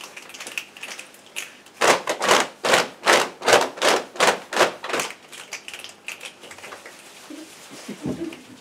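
Schoolchildren in a Dutch primary-school group 8 musical imitate a rain shower with their hands: a swelling series of rhythmic rubbing and patting bursts builds to a loud peak, then fades to a soft patter with faint voices.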